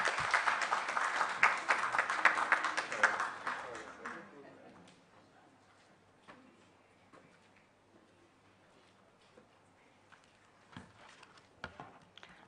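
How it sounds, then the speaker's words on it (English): Audience applause at a World Parliament Day session greeting the co-chair of a national steering committee, a brisk burst of clapping for about four seconds that quickly dies away to a quiet room with scattered small knocks and rustles. "let's give her a round of applause."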